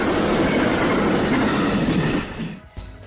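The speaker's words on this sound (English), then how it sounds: "Coming in hot at 79 miles per hour, Amtrak 19" Amtrak 19 rushes past at 79 miles per hour, a loud, close roar of wheels and rail noise that holds steady, then drops away abruptly with a few final clanks.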